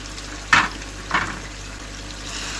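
Meat with green chilies and coriander roasts in a pan with a soft continuous sizzle, broken by two brief scraping stirs, fairly quiet and close.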